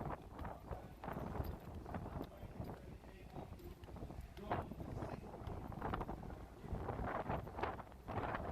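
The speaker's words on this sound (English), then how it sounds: "pretty windy out here." Strong gusty wind buffets the microphone on the open-air exterior deck 10 of the Carnival Miracle cruise ship, producing rumbling, uneven roars that swell and dip throughout.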